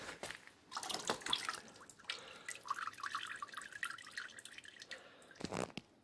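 Coolant trickles and drips as it drains from a Honda CBR1000RR Fireblade radiator, faint irregular splashing and dripping close by in an otherwise quiet space.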